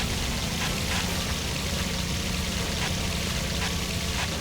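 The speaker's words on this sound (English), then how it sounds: "the sound of water being splashed up from the car's tires way overpowered absolutely everything else" Car tires throw up water on a wet road in the 2002 Xbox racing game Maximum Chase, a loud, constant hissing spray that dominates and never lets up.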